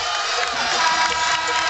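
A basketball arena crowd at a Rhode Island vs VCU 2017 A10 Championship game, cheering as a dense, loud roar that holds steady for the whole short stretch.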